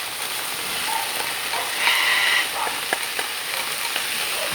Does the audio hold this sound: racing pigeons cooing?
no